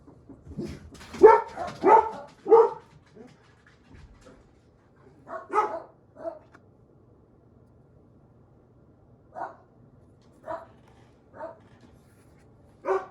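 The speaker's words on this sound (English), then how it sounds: "I think my dog is letting me know that it's at the door" A dog barking indoors as a food delivery arrives at the door, a loud cluster of sharp barks followed by scattered, quieter single woofs spread over about thirteen seconds.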